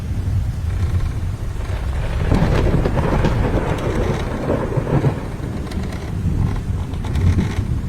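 Heavy rain pours steadily while deep thunder rumbles and rolls through, loud and continuous.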